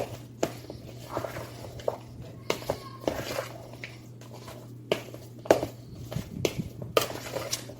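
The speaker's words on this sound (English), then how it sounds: "I like to use a fork to mix" Hamburger meat mixed with a fork in a bowl after an egg is cracked in, giving soft irregular scraping and tapping clicks against the dish over a low steady hum, with faint talk at times.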